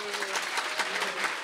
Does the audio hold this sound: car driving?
no